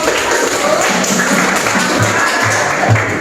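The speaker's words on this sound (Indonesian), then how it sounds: "kita beri aplaus dulu" Steady applause from a classroom audience during a teaching performance assessment, a dense, continuous patter of many hands at even loudness with no pauses.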